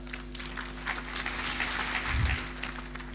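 A large crowd applauds at a Kenyatta University graduation ceremony, a steady distant patter of clapping over a constant electrical hum from the venue's sound system.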